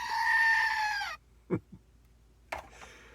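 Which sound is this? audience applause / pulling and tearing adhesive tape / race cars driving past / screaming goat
screaming goat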